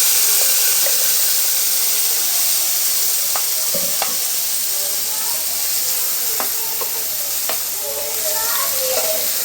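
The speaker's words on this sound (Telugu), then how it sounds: "తాలింపు వేసుకున్నాం" A chutney tempering sizzles steadily and loudly in hot oil, with scattered sharp pops and crackles.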